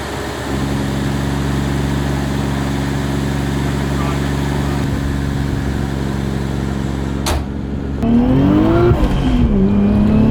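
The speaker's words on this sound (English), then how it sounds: "So we just took the car for a drive." A Toyota Chaser JZX100 engine with an ignition problem hums steadily from inside the cabin, then its pitch climbs and dips as the car accelerates, loud and close throughout.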